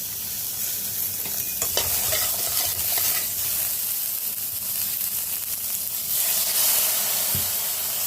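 Spice masala for a potato, chayote squash and red lentil curry sizzles loudly in a pan after a splash of water, with constant close frying hiss, scraping stirs and occasional sharp crackles.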